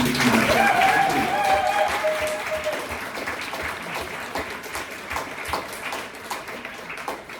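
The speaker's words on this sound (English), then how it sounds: "Can we get one more round of applause for everyone doing this?" Wedding guests at a reception applauding after the groom's speech, a loud burst of clapping and cheering with a voice at the start, then thinning into scattered claps and chatter.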